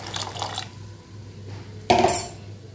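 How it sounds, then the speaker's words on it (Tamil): Tamarind water is poured into a pot while cooking bitter gourd pitlai, giving a short splashing rush of liquid after a quieter lead-in, close and fairly loud. "கரைச்சி வச்ச புளி தண்ணி ஊற்றிடலாம்."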